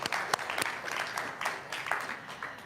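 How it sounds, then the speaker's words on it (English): Audience applause at a Sunday morning service, a steady dense patter of many hands clapping throughout, moderately loud, with no talking over it. "give yourselves a round of applause"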